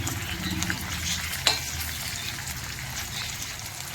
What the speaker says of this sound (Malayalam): നമ്മൾ കുറച്ച് കറിവേപ്പില ഇട്ട് കൊടുക്കാം രണ്ട് വറ്റമുളക് ഇട്ട് കൊടുക്കാം ഒന്ന് ഇളക്കി കൊടുക്കാം